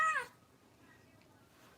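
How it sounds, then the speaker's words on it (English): A pet cat gives one short, close meow at the very start, then the indoor room goes quiet apart from a faint background hum. "Crazy cat."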